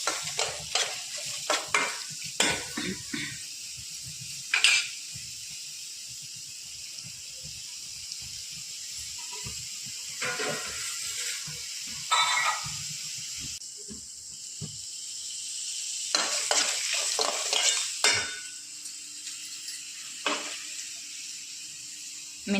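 Cut vegetables for pachadi stirred and frying in a pan, a steady close sizzle broken by repeated scraping stirs at an irregular rhythm, with no voices.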